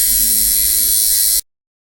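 A tattoo machine being tuned runs with a steady, close electric buzz, then cuts off abruptly into silence.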